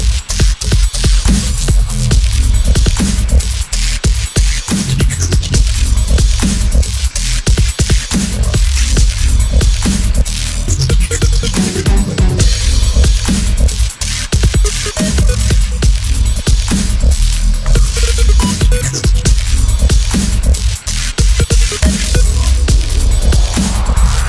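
Produced electronic beat with a sweep effect and doubled-up kick drums, playing loud and dense from start to finish with steady punchy thumps and no talking.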